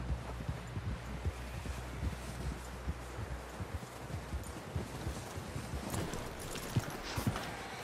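Horse hooves clip-clopping in Red Dead Redemption 2, a steady run of close, dull hoof thuds beneath a constant whooshing wind bed, with no speech.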